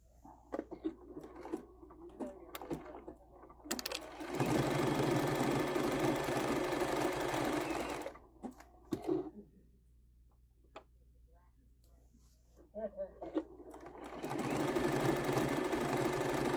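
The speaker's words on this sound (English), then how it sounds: "Now I'm gonna stitch to this corner here, right? And I'm gonna lock my stitch in place." A sewing machine stitches a quilt-as-you-go table runner, running in two loud, steady, close-up bursts with soft clicks and handling noises in the quieter stretch between them.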